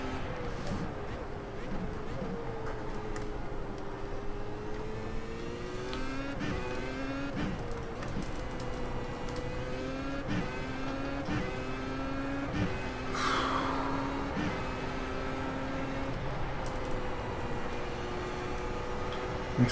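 Open-wheel F1 race cars roar around Spa in iRacing, engine tones climbing and falling through gear changes as the leader closes from behind, steady and loud under a commentator's talk.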